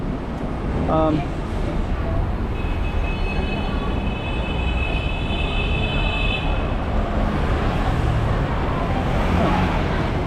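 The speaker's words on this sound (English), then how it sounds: "just saw the sounds of traffic" City traffic at night near the Lisboa casinos in Macau, a loud continuous roar of engines and passing vehicles with a brief squeal and a sustained tonal whine partway through, heard up close and steady.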